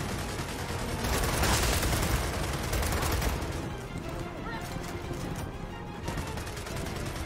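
Gears of War 4 firefight with dense, continuous bursts of automatic gunfire and rattling shots layered over game noise, loud and sustained throughout, with people talking over the action.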